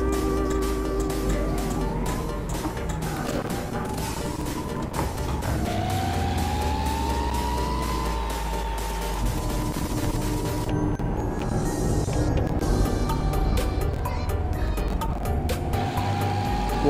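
Continuous road traffic on a Jakarta street, with engines rumbling close by, vehicles passing and wavering siren-like horn tones from a convoy, steady and loud throughout.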